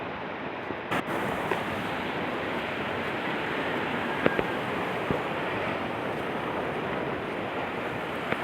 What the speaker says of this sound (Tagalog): malalaki yung mga alon oh